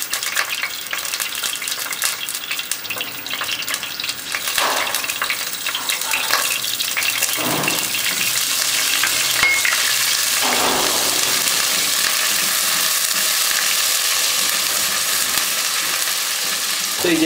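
Garlic ginger paste sizzles loudly and continuously in a hot pan over a high flame, with a bright hiss that swells and intensifies, plus occasional stirring scrapes.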